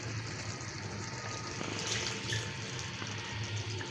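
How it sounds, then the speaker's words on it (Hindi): Water poured from a cup into a cooking pot in a home kitchen, a steady splashing pour running without pause for several seconds, close and moderately loud with no talking. "थोड़ा मैं इसमें डालूंगी ये पानी"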